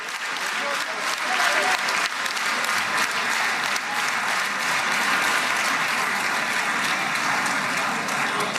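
At a political rally, an entire audience breaks into loud, sustained applause, a dense wash of clapping from a large crowd that carries on steadily, with voices faintly mixed in.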